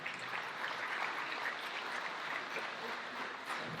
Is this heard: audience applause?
yes